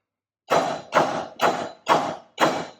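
Five light, evenly spaced hammer taps land close by, seating a part flush on a Dirt King upper control arm during a rebuild, each a soft, dull knock with a short decay.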